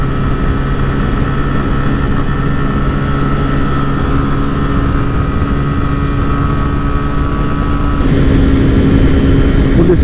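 TVS Raider 125 and Glamour Xtec 125 motorcycles at full speed in a top-end drag race produce a loud, sustained engine hum with steady tonal lines, shifting in character near the end as the riders press on.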